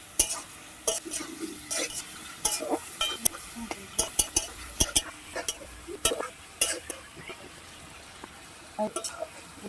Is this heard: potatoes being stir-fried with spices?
yes